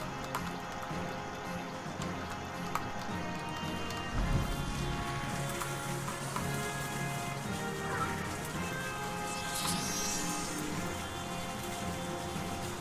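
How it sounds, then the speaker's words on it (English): Hail from a spell in a fantasy mage video game, a steady dense patter of icy pellets rattling down at moderate volume, continuous throughout with a brief low thump partway. "Hail."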